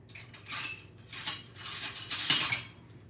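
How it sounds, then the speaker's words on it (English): A metal spoon scrapes and clinks against a pan while stirring sliced garlic, three short bursts of close, fairly quiet rattling and scraping over a few seconds. "I guess I'm going to use a spoon here for this."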